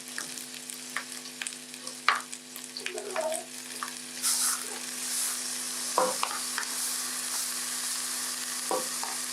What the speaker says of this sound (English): the kitunguu kwa mboga is cooking